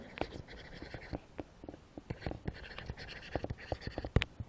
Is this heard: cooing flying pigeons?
no